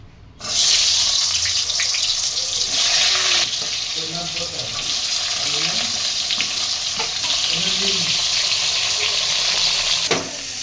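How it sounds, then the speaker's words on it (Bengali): Pieces of pointed gourd (potol) fry in hot oil with a loud, dense, continuous sizzle, close by, while a voice speaks faintly underneath. "তেল গরম হয়ে গেছে, পটলগুলো ভেজে তুলে নেবো।"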